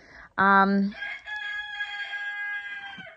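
A rooster crows once nearby, a loud harmonic call that breaks off after about half a second, then a fainter, steadier crow or bird call carries on underneath.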